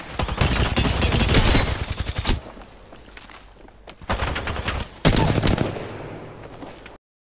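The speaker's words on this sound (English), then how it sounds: "They're shooting at me." Enemies firing guns at the player in F.E.A.R.: loud, rapid automatic gunfire fills the first seconds, then quieter clatter and more sharp bursts of shots follow.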